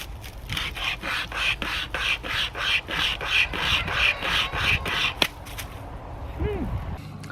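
Small survival-kit hand saw cutting dead wood, about a dozen rhythmic rasping back-and-forth strokes close up, then the sawing stops with a brief knock and a short vocal sound at the end.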